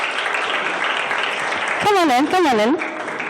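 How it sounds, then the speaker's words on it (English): Crowd applause fills the room at a night hackathon event in Tel Aviv, steady and fairly loud, with a voice speaking over it near the end. "A round of applause for them"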